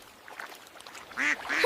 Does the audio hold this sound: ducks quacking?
yes